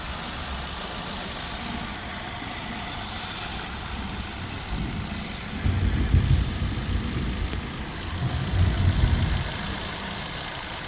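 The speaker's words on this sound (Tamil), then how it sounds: "இப்போ நெக்ஸ்ட் நம்ம அந்த வண்டியோட இன்ஜினை ஸ்டார்ட் பண்ணி இன்ஜினோட சவுண்ட் எப்படி இருக்குன்றதை காட்ட போகிறோம்." A 2012 Hyundai i20 Magna petrol engine idles steadily close by, a low even hum with a slight knocking texture that swells briefly a couple of times, with no talking.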